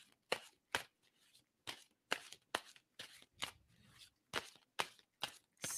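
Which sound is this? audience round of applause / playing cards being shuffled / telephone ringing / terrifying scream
playing cards being shuffled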